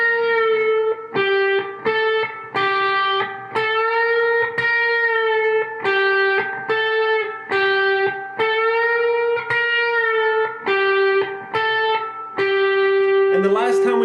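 Electric guitar plays a solo at a slow tempo, a steady string of picked, slightly overdriven notes in short repeated phrases with brief gaps, ending on a bent vibrato note, alone and close.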